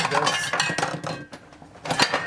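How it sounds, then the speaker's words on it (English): Clattering clinks and knocks of metal pots and utensils tumbling in a kitchen during pasta cooking, several sharp impacts in quick succession with a brief lull, close by. "Butterfingers today. I'm knocking everything over."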